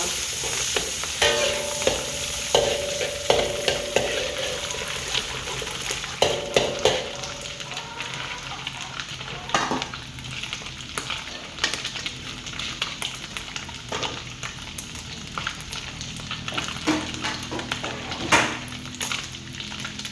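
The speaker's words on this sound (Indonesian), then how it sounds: "Kacang panjang yang ditumis menggunakan minyak goreng." Long beans stir-fried in cooking oil, with a steady close sizzle and frequent clattering scrapes of a spatula against the pan throughout, without any talking.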